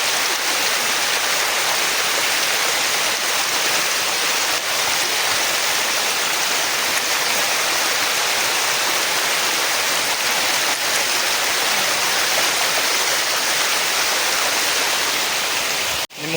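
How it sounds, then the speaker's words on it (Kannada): A waterfall formed by heavy rain, fed from a lake filled by the night's downpour, roars loudly and without a break. The dense rushing water fills the whole stretch at close range. "ರಾತ್ರಿ ಮಳೆ ಆಗಿರೋ ಕಾರಣ ಆ ಕೆರೆ ತುಂಬಿರುತ್ತೆ ಅದಕ್ಕೆ ಇಲ್ಲಿ ನೀರು ಬಂದಿದೆ"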